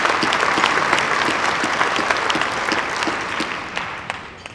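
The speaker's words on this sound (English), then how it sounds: "Let's give Jim a round of applause." Sustained applause fills a hall as an awards-ceremony audience welcomes a newly elected chairman, dense and steady for the full stretch with a slight taper near the end.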